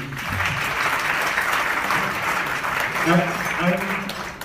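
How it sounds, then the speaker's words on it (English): Steady applause from a crowd fills the whole stretch, a dense even clatter of clapping with a few voices murmuring underneath. "So a round of applause for all of you."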